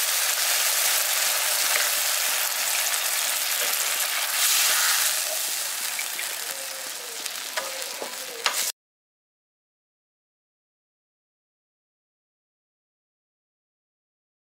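Water is poured into a hot pan of paneer masala in a village-style kitchen, a steady hiss and bubbling sizzle that gradually fades over several seconds before cutting to silence.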